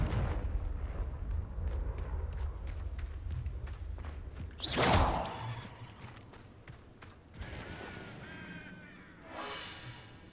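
A Confringo spell blast in Hogwarts Legacy: a sharp, bright burst near the middle rising out of a low rumbling battle bed of ticks and thuds, followed by softer whooshes and impacts.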